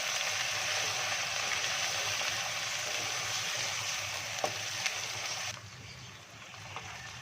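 Ginger and garlic paste cooking in a pan for turai masoor dal, a soft continuous sizzle with a couple of faint clicks, which thins out and quiets near the end.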